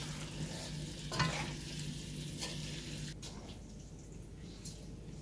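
Beef tehari being stirred in a cooking pot, soft scraping and sizzling textures repeating faintly and close, with a light hiss underneath and no speech.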